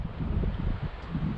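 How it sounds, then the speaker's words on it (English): Strong wind gusts outdoors, rumbling low and buffeting the microphone in uneven bursts with no voices. "If it wasn't so dang windy right now"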